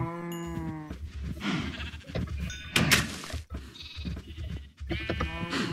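Minecraft cows mooing and bleating in a farm pen, several loud harmonic calls near at hand, alone without talk.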